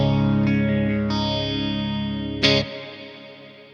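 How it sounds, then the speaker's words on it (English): Clean electric guitar tone through a Quad Cortex with reverb switched on: a sustained chord rings out, a second strum enters near one second and a bright struck chord near two and a half seconds, then a reverb tail decays alone. "Let's also turn on that beautiful reverb once again."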